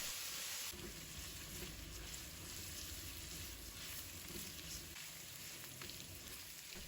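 Pork belly stir-fried in a wok with a spoonful of soy sauce poured in, giving a steady close sizzle with soft scraping and tossing throughout.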